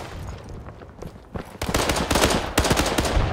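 An M1 Carbine fires in the WW2 shooter Days of War: quieter distant shots give way to loud, rapid cracks and bursts of gunfire crowding the second half.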